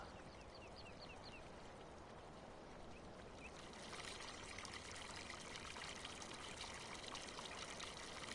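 Farm water trickles in a continuous close splash while ducks quack faintly in the first few seconds; the flow then grows a little louder and brighter toward the end.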